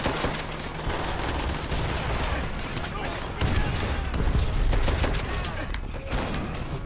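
Dense gunfire fills a Call of Duty: World at War battle, with rapid bursts and single cracks going on throughout while someone talks over the shooting.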